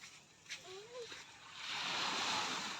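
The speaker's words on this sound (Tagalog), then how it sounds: "Ang taas ng alon." High ocean surf at a beach resort in Zambales, a broad steady wash of breaking waves that swells louder in the second half, with brief voices over it at the start.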